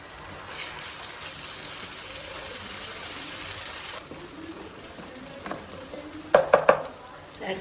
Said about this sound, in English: Fry the onions until they are golden color.